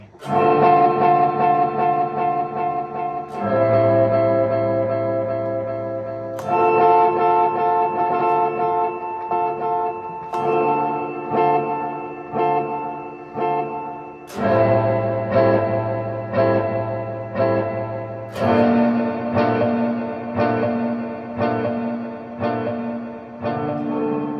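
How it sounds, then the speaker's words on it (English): Guitar chords played through a Boss RV-3 digital reverb/delay pedal ring out through heavy delay and reverb, each strum trailing into echoing repeats that wash together over about twenty-four seconds. "that is pretty much it for kind of the delay and reverb combo"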